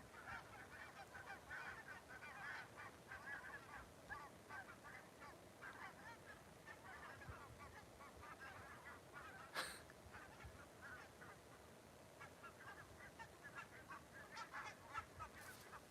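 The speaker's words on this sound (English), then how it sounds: "Jordan, there's a few geese coming over the top." Several geese honk repeatedly as they fly over a fishing spot, their calls fairly distant and steady for the whole stretch, with one sharper nearby noise midway and no talking.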